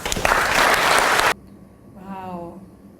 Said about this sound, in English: I think she deserves a round of applause for the points clearly stated out.